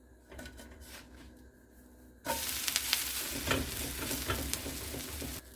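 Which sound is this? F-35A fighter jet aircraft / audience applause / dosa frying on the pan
dosa frying on the pan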